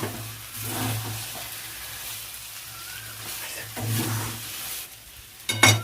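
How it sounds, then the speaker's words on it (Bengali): Katla fish head muri ghonto stirred and fried in a pan, giving a steady soft sizzle with scraping from the stirring, fairly close, plus a low hum underneath and a louder clatter at the end. "এবার একটু নেড়ে চেড়ে নেব, 2-4 মিনিট একটু নেড়ে নেব"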